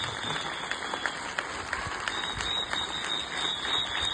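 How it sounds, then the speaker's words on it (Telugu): An audience at a school or play-school event claps for the parents, a dense, steady wash of applause filling the room from start to finish with a few sharper claps poking through. "అంతకన్నా ఎక్కువ మీ అమ్మ నాన్నకి గట్టిగా చప్పట్లు కొట్టాలి."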